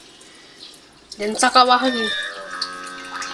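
Water runs steadily from a tap into a pot, a soft continuous trickle that is soon partly covered by a person speaking close by.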